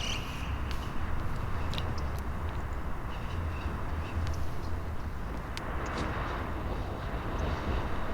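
A transport airplane's engine drones steadily in the Free Fire battle royale game, a continuous low roar with faint clicks and small game sounds scattered over it.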